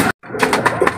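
Pigeons cooing inside a large cage, a few soft, repeated coos close by with a brief silent gap near the start.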